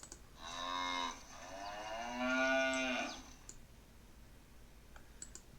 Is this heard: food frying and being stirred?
no